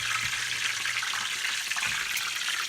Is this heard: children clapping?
no